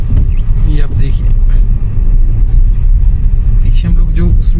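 A car engine labors steadily in low second gear as the vehicle climbs a mountain road in Spiti, a continuous loud rumble running beneath people talking.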